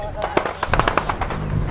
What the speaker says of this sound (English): gunfire comes in right above our heads